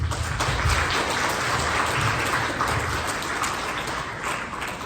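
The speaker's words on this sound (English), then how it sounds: "Can I please ask the parents and kids to applaud my beautiful staff?" Parents and children applaud school staff at a Year 6 graduation ceremony, producing a steady wash of clapping across the hall, moderately loud and continuous.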